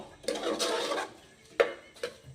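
Tomato biryani stirred in a pot, a few scraping, clattering strokes of a spoon against the metal, close and fairly crisp, with quiet pauses between strokes.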